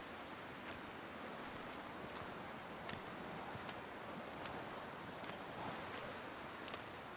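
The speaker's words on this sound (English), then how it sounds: "Oh, great. It's windy." Steady wind blowing across an open outdoor landscape in the survival video game The Long Dark, a continuous broadband rush with faint gusty swells and no speech.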